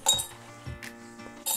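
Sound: glass container clinking while battery zinc is placed in it

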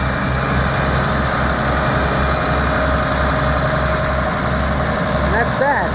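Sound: Case 2290 tractor engine running

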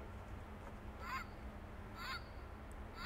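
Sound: bird sound from an interactive exhibit station

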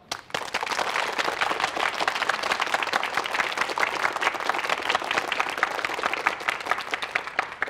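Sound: warm applause from police officers

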